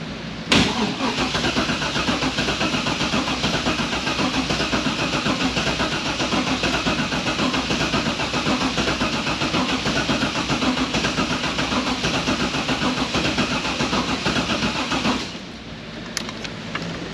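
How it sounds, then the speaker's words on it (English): A Pontiac Firebird engine cranks steadily for about fifteen seconds, a loud continuous churning with no voices, then cuts off abruptly near the end. "let's see if it'll crank"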